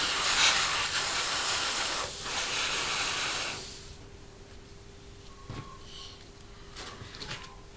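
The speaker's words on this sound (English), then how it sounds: "So we're just spraying them black." An aerosol can sprays black paint onto Italeri 1/72 Jaguar T2 model kit parts in a loud, steady hiss for several seconds, followed by a few shorter, quieter bursts.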